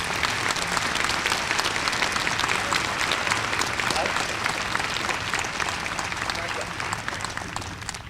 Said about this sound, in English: May we now have a nice round of applause for all these people.